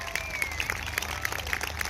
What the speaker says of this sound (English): put your hands together for a big round of applause